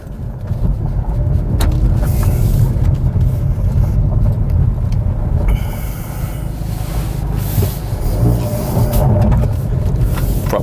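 A 2019 Hyundai Veloster N, front-wheel drive, cruises in normal mode, heard from inside as a steady, loud low engine drone and road rumble that continue without a break.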